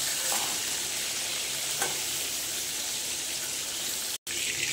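Cauliflower pieces fry in hot oil in a pan, a loud continuous sizzle close by with a faint stirring scrape and a brief cut near the end.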